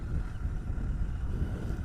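Steady low wind rumbling and buffeting against the microphone outdoors on a mild, overcast day, a continuous broadband roar with no voices.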